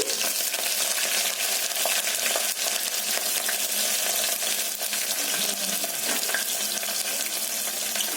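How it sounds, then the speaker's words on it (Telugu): Chopped onion pieces hitting hot oil for a pressure-cooker mutton curry, a loud, dense, steady hiss and sizzle filling the whole stretch close up, with no talking. "ఆయిల్ వేడయ్యాక మనం కట్ చేసి పెట్టుకున్న ఉల్లిపాయ ముక్కలు వేసుకుందామండి"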